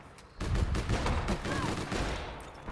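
Gunfire in the online shooter APB Reloaded: a rapid burst of loud repeated shots that continues for a few seconds after a quiet start, with game noise in the background.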